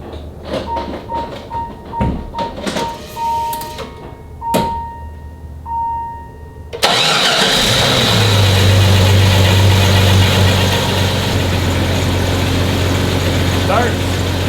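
Jeep ZJ engine cranking and catching after a rear main seal repair, then settling into a loud steady idle; clicks and shuffling handling noises come before the start.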